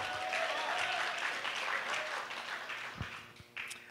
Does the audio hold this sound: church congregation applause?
yes